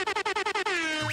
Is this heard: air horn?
yes